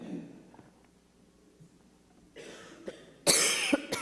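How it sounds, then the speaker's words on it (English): A person coughs near the microphone at a church service, a couple of harsh bursts after a quieter stretch. "he can mute me while I cough"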